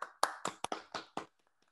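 Brief scattered clapping from a small audience at a symposium town hall meeting, a handful of sharp separate claps over about a second before fading to silence.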